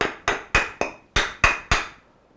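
A hammer strikes wooden canvas stretcher bars to knock them apart, giving seven sharp, close taps in a quick, slightly uneven rhythm, each ringing briefly before the next.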